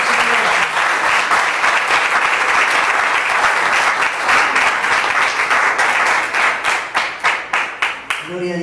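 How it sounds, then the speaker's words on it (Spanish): Church congregation applauding loudly during a service, a dense, sustained roar of many hands that thins near the end into a few rhythmic unison claps, with a voice briefly over it. "Dale un fuerte aplauso, Señor"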